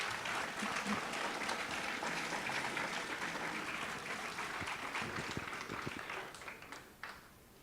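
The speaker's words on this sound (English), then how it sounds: "Let's give a warm round of applause to our governor candidates today." Faint, steady applause from the audience at a 2018 Hawaii gubernatorial candidate forum, thinning out toward the end with a few scattered late claps.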